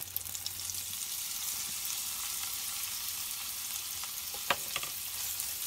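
All-purpose flour is stirred into hot oil for sausage gravy, giving a soft, steady sizzle with a few faint spoon clicks near the end.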